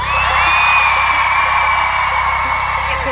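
A crowd screaming and whooping in answer to a host's call, a dense, sustained roar of yells and cheers that stays loud and unbroken throughout, with no distinct speech.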